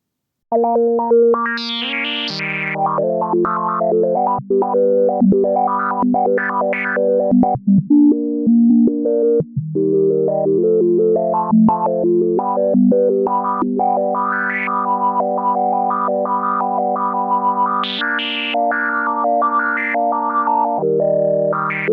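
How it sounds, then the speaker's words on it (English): A distorted GForce Bass Station synthesizer tone holds a low note while its resonant high-pass filter's upper resonance jumps to random sample-and-hold steps, producing a bubbling, stepping electronic texture with no voices. "Let's modulate the resonance with a sample and hold."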